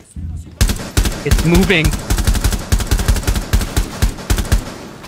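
Rapid automatic gunfire in a video game, sharp bursts repeating in quick succession with brief pauses, loud and close, while a player speaks briefly over the shots.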